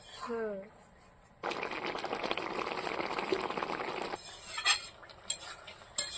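Jhinge posto, ridge gourd cooked with poppy seeds, boils in a pan with a steady bubbling hiss for several seconds, then scattered clinks of a utensil; a voice talks briefly at the start.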